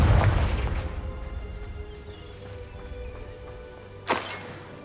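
The Confringo explosive spell is cast in Hogwarts Legacy. A deep, booming blast opens, then a low rumble fades away. Near the end a sharp, bright crack stands out against a faint steady hum.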